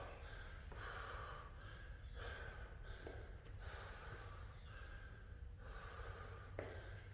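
Heavy, effortful breathing from someone doing reverse lunges, a steady stream of rough breaths and snorting exhales at low volume throughout.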